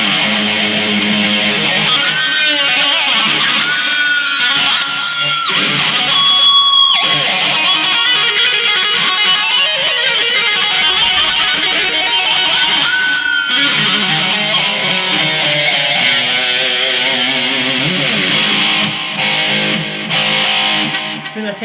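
Electric guitar through a BOSS eBand JS-10 amp set for a trebly, brittle high-gain 70s-style distortion, playing loud sustained riffs and bright lead phrases continuously for the whole stretch without talk.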